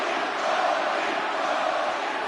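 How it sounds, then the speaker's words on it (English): An arena crowd at a UFC event cheers and roars in appreciation after a round that ended with a knockdown, a dense, sustained wash of voices heard from within the venue. "the crowd voicing its appreciation after that round"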